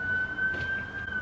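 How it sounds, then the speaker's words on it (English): A police siren sounds from outside as a steady high whine, faint and distant, with no talking. "Oh, the siren's still going?"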